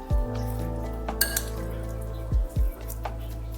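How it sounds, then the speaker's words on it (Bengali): Chicken, bell pepper and capsicum salad being mixed in a bowl, giving a few sharp clinks of utensil against the dish with soft wet rustling between, close and fairly quiet. "চিকেন, বেল পেপার আর ক্যাপসিকাম এগুলো যখন একসাথে হয়ে এখন মাখছি"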